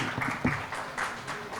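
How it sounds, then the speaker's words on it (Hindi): Applause from an audience at an award and felicitation event for banking exam achievers, a brief burst of fairly close clapping with a murmur of voices underneath. "और फिर भी सर के लिए तालियां"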